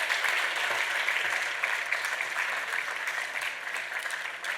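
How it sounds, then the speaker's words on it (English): A warm round of audience applause follows an arangetram Bharatanatyam dance performance, many hands clapping in a dense, even wash that holds steady throughout without any speech. "So let's give them just one more round of applause for that."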